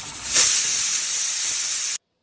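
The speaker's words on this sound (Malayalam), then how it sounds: "ആഹാ, ഞങ്ങൾ കുക്കർ വിസിലടിച്ചിട്ടോ." A pressure cooker of beef and potatoes on a gas stove lets out a loud, steady steam hiss for about two seconds, swelling near the start, then cutting off abruptly into silence.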